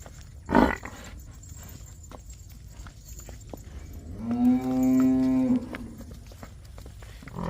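A single long, loud moo from nearby cattle, rising out of quiet background noise, preceded by a brief thump.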